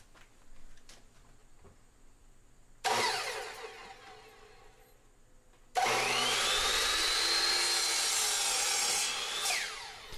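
A power saw blade cuts corners off a polycarbonate sheet in a woodworking shop, two loud whining cuts, the second longer and sustained, over quiet background noise.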